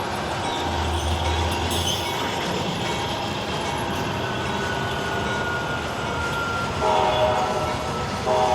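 An HO scale model locomotive rumbles steadily while its LokSound 5 sound decoder plays a horn in short blasts, with a bell-like ringing and engine chug throughout.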